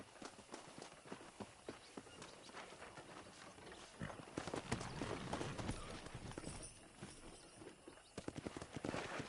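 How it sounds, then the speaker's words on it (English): Rapid hoof clip-clops of several horses trotting over ground in the video game Red Dead Redemption, steady and busy throughout, with faint snorts and rustling in the background. "let's see if we can't wrangle some horses"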